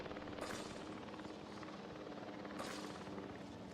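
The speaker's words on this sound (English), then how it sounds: "Not sure it's a great idea to chase them with a helicopter." Helicopter rotor and engine noise from the video game Jurassic World Evolution 3, a steady loud drone with chopping texture and two brief brighter swells, no talk.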